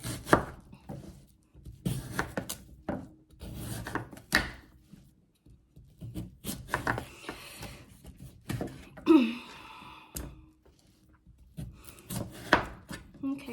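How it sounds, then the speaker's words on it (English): A knife slicing the white and green rind off a watermelon on a cutting board, heard as repeated close thuds and scraping cuts in an irregular rhythm, with brief quiet gaps between strokes. "so just cut all the way around it, getting all the white and green"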